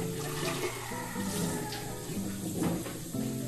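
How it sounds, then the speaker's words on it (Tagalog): Running water splashes over a plastic bottle as it is rinsed, a steady close gush with shifting gurgles and knocks. "So dito na lang guys para diretso hugasan ito."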